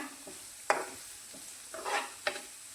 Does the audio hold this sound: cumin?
yes